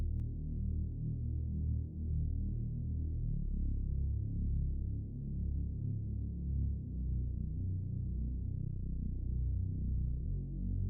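A smooth, low synthesizer bass pad glides between notes with portamento, sustaining a dark, soft, continuous drone-like tone alone and fairly quiet throughout.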